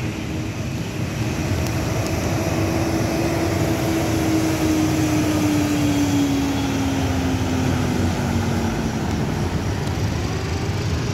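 A Cahaya Kembar Jaya bus with an Avante body rolls past at night on the road toward Medan, a steady engine drone and tyre roar with a slowly falling pitch as it goes by.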